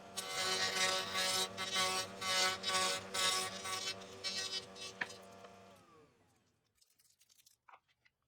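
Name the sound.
chamfer bit routing wooden gear rings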